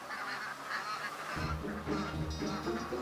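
Ducks quacking noisily at close range, a dense, overlapping stream of nasal honking calls that grows fuller and louder partway through.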